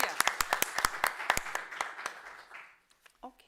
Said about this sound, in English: Let's applaud for him anyway.